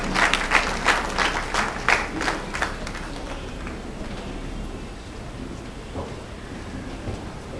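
A standing audience applauds to welcome an archbishop onto the stage, the clapping strong and dense for the first few seconds, then thinning and fading into a quieter hall murmur.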